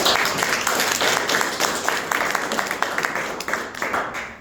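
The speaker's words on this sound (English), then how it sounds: "Let's all have a final round of applause for all our speakers and evaluators" A meeting audience gives a final round of applause for the evening's speakers and evaluators, with dense, steady clapping throughout and a faint voice underneath.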